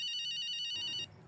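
A telephone rings with a rapid electronic trilling bell, pulsing steadily and clearly for about a second before stopping, in a Hindi TV drama scene.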